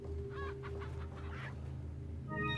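Chickens cluck in the Resident Evil 4 video game, several short bursts in a row sitting over a steady low game hum, with a brief higher-pitched call near the end.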